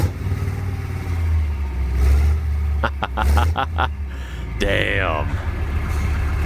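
A European diesel tank engine runs with a deep, rough idle and loud low rumble, then a series of sharp revs and bursts near the middle, while a voice is heard over it.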